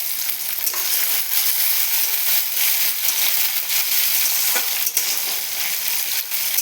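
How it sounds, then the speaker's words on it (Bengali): Chopped tomato frying in a pan for luchi and dal, a steady, loud hiss and sizzle with faint stirring scrapes, close and continuous. "তো টমেটোটাকে একটু ভেজে নিয়ে"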